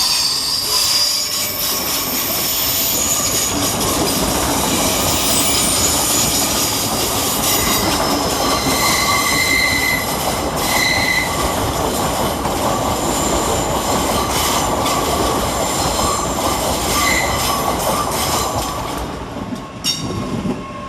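A Great Western Railway Class 800 pair, 800 007 and 800 022, departs London Paddington on a service to Penzance. There is a loud, continuous rolling roar with wheel squeal and rail clatter for about twenty seconds, and it eases slightly at the end.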